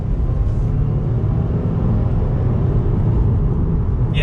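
A 2020 Subaru WRX Performance Package with its 2.5-litre engine powers through a right-hand bend, giving a loud, steady, close engine drone and road rumble heard from inside the car.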